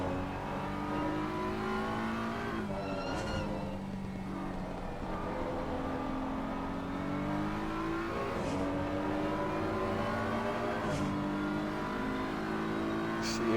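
Porsche GT3 race car engine in a racing video game, loud and sustained, its pitch climbing and then dropping sharply at gear changes several times, with faint talk underneath.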